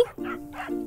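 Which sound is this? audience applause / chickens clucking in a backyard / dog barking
dog barking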